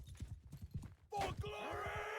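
Horse hooves clip-clop in a steady rhythm during a video game match, with a whinny-like call breaking in partway through. Commentators talk over the sounds.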